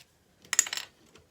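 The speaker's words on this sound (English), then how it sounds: "So I am just going to trim this off with my knife." A knife trims the edge of a handmade flowers-and-bluebird frame card, giving a short, close burst of dry scratchy cutting that fades into quiet.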